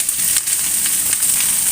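Pre-boiled chicken feet hiss and crackle in a hot pan, a loud, continuous close sizzle with faint stirring and no talking.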